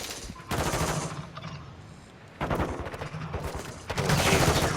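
Automatic gunfire in Call of Duty: Modern Warfare, loud sustained bursts of rapid shots separated by a short lull, then resuming heavier near the end, with no talking.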